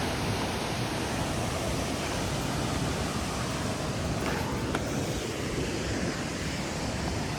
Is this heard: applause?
no